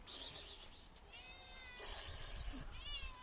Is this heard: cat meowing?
yes